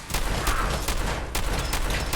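Rapid gunfire from fire support rattles through a Fallout 4 battle, a dense loud fusillade of overlapping shots that keeps going for the whole span without any speech.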